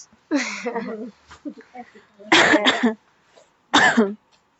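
Three separate bursts of allergy coughing, close and fairly loud, with short quiet pauses between them.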